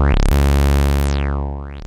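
A Eurorack synth voice built from a mix of oscillator waves, run through a filter and a Metasonix RK-2 XS tube-powered VCA, gives a loud sustained buzzy drone whose resonant sweep dips down and climbs back up, heard alone.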